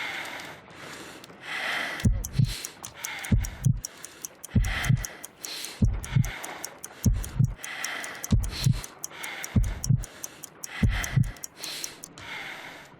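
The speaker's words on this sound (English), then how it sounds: "I need to concentrate and count the heartbeats." Slow, steady heartbeats from the Sherlock Holmes: Crimes & Punishments video game, a weak pulse of about 50 beats per minute, each a low double thump repeating about every 1.2 seconds under a faint ambient hiss, with no talk.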